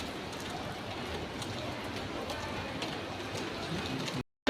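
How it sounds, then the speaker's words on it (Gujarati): Steady light rain falls continuously in Surat, a dense even patter on surfaces that fills the scene before cutting off abruptly at the end. "વરસાદ ચાલુ છે હવે."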